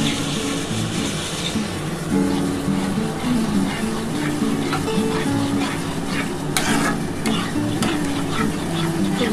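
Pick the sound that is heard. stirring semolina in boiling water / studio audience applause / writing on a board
stirring semolina in boiling water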